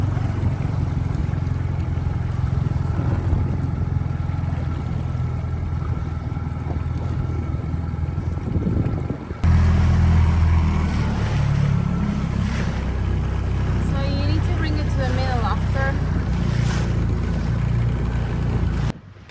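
A motorboat cruising off the Maltese coast near Popeye Village runs steady and close, its engine droning under light throttle with water rushing alongside; the drone steps up in level midway through and holds, with no talk.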